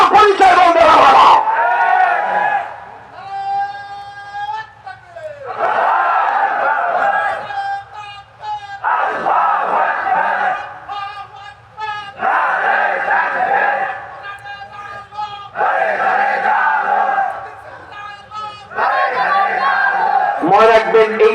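A crowd at a religious gathering chants the slogan Allahu Akbar in repeated loud call-and-response rounds, voices swelling together in long bursts separated by brief pauses, with a speaker's amplified voice leading between them.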